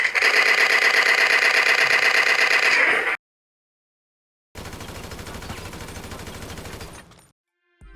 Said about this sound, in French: j'ai préféré mettre un vrai bruitage de fusil